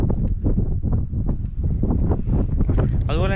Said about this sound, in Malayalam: ഓ പൊടിക്കാറ്റാണ്, സൈഡിൽ നിൽക്കാം